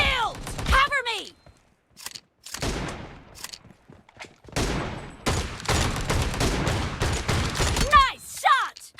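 Shotgun blasts in the mobile shooter game BGMI, a dense run of loud sharp reports in bursts with short gaps, mixed with game effects and excited shouting voices throughout.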